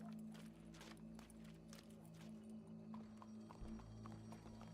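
Horse hooves clip-clopping in Red Dead Redemption 2, a quiet, steady rhythm of walking hoofbeats over a low ambient hum, with no talking.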